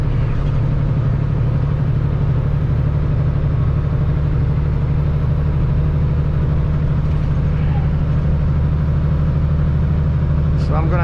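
A truck engine strains up a hill in New York while hauling a heavy Volvo EC380EL excavator, a loud, constant, close low-pitched drone with no break.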